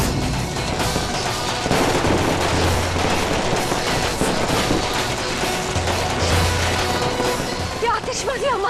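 Fireworks exploding close overhead in a continuous barrage of rapid, loud cracks and booms that sound like gunfire, with shouting voices and whistling rockets near the end.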